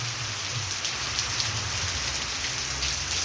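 Steady rain falling continuously in Amaniutuba, Ceará, after more than a month without rain, a dense, even patter on surfaces with a low rumble beneath, close and unbroken with no voices.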